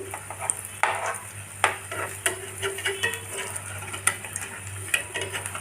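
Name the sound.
stirring batter frying in a pan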